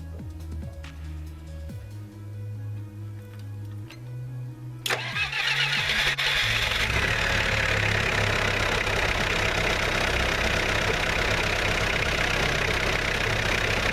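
A Bobcat skid-steer loader's engine cranks briefly, catches and starts, then settles into a loud, steady idle that fills the rest of the clip, with no talk over it.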